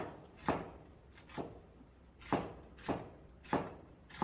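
Knife thinly slicing onion into 6 cm strips during a Chinese cooking exam dish: about seven crisp, close-up cuts at an uneven pace, each a sharp tap on the board with quiet pauses between.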